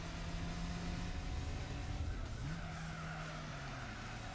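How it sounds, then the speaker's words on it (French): Race car tires squealing and skidding in Gran Turismo 4, a continuous loud engine drone with a pitch drop and rise as the car scrubs along, no impact thud standing out clearly. "Putain, je me suis encore pris le mur"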